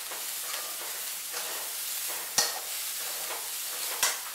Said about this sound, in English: Give it a good shake so that the haldi and the salt gets mixed with the onion.